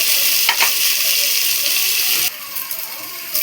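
Ingredients for an ivy gourd chutney sizzling and being stirred in hot oil in a pan, with steady close frying hiss and a few scraping clicks of the spoon against the pan, no talking.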